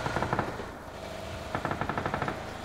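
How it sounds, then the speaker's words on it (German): Automatic gunfire in the battle-royale game PUBG comes in two rapid rattling bursts, one at the start and a longer one near the end, with a quieter gap between and no talk. "Schüsse von weit weg."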